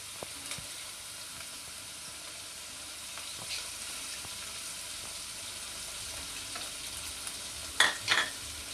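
Spices being stirred into aloe vera pickle cooking in a pan, a faint steady sizzle with soft stirring scrapes and a couple of louder clatters near the end.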